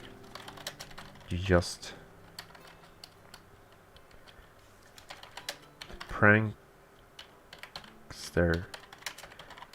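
Quick bursts of computer keyboard typing patter under a speaking voice, with short pauses between the runs of keystrokes.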